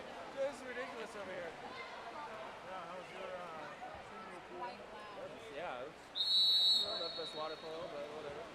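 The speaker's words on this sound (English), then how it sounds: "I'm trying to get used to the whistle." Referee whistle at a youth water polo championship game, one loud sustained blast near the end rising over a steady din of voices and crowd chatter.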